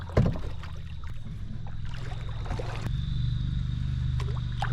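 Canoe paddle strokes dip and pull through the water on a quiet North Georgia river, a few soft splashes and gurgles over a steady low background of flowing water, with no voices.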